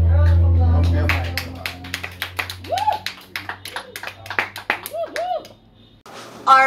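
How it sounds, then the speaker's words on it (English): A small group claps by hand in a lively round of applause of many sharp, irregular claps, with people talking and cheering over it, close and fairly loud. "Give you guys a round of applause."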